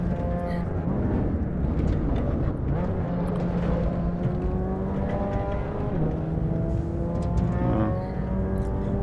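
Video-game racing car lapping Imola, its engine whining up and down through rising revs and quick gear changes, loud and close, with other cars' engines faintly in the background.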